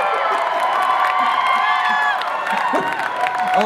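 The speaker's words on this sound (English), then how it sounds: "Oh, I know what you're cheering." An audience at a convention panel with actor Alan Tudyk at FanX 2016 cheers and whoops, a sustained loud roar of voices with applause and high-pitched shouts.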